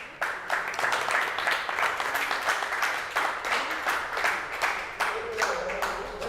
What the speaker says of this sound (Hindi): आइए जोरदार तालियां हो जाए इनके लिए।